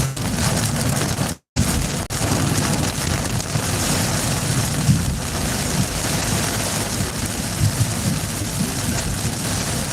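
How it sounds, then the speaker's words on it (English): Heavy rain falls outdoors, heavy enough to flood, in a dense, steady roaring hiss that fills the whole stretch, broken only by a momentary dropout near the start. "I didn't know it was gonna be this type of rain on the forecast."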